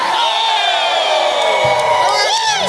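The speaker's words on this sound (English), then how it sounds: "SAPW crowd is rabid. Oh, yes, they are. They're loving this." Crowd at a SAPW wrestling show in Spokane cheering and whooping loudly and continuously, a dense roar of voices with rising shouts throughout.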